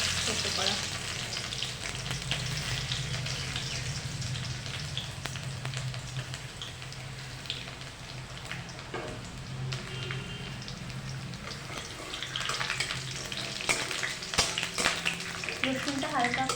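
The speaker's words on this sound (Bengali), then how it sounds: "রসুনটা হালকা করে তেলে নেড়ে নিয়ে" Crushed garlic sizzles steadily in hot oil for masoor dal, a continuous close frying hiss with light stirring scrapes throughout.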